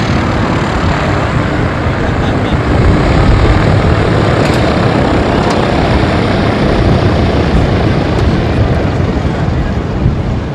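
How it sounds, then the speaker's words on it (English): A Korean War era propeller airplane roars steadily at close range at a military air show, a loud, dense engine and propeller drone that holds constant throughout with no break. "until you get up close to the airplane, you can't appreciate that giant propeller on there"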